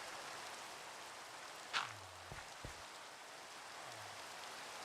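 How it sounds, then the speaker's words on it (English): Gentle, constant rain patters in Minecraft, a soft even hiss running throughout, with a couple of brief game sounds briefly cutting through. "And the thing is it's raining."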